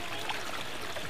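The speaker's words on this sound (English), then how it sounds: "This is what's called a flow form. The idea of flow forms is it creates a vortex in the water and helps to purify it" Water streaming and trickling through a garden flow form, a sculpted basin that swirls the flow into a vortex, with a steady, close, continuous babbling gurgle and no pauses.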